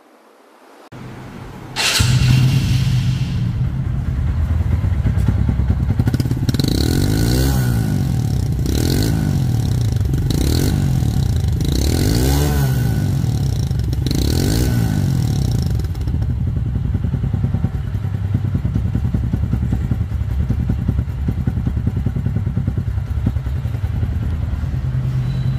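A 2022 TVS Radeon 110cc second-hand motorcycle engine starts up close, settles into a steady idle, and gets several throttle blips in the middle before returning to an even, continuous idle.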